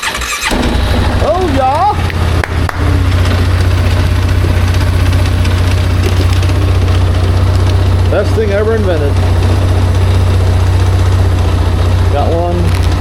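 A truck engine cranks and catches, then settles into a steady low idle, close by; a person speaks over it and a few squeals rise and fall.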